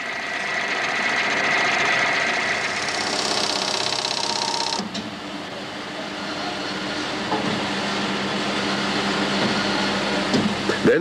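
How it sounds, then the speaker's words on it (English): Steady machine whir of a cast bearing surface being rough machined, loud and continuous with a brief dip midway before the grinding drone resumes. "First, the surface is rough machined to remove surface impurities."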